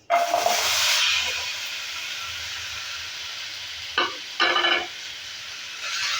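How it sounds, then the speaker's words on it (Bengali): Dates sizzling and hissing as they fry in a kadai, a burst of frying at the start then a steady sizzle, with a couple of short scraping stirs near the end. "খেজুরটাকেও একটু এভাবে করে নেড়ে চেড়ে ভেজে নেব।"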